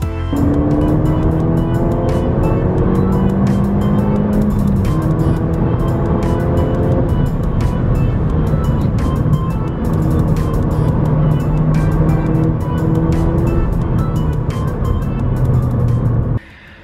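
A Ford Fiesta ST200's engine drives hard, rising and falling through the revs with sustained loud, close engine tone and shifting pitch that cuts off abruptly at the end.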